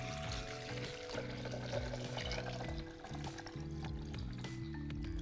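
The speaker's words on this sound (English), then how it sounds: "Gonna grab our water and pour that right in." Water pours in a steady stream into a pot of soaked cinnamon sticks, splashing and gurgling faintly over a low background hum.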